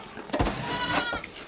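Baby goats let out a couple of brief bleats, fairly loud and close, over steady background noise.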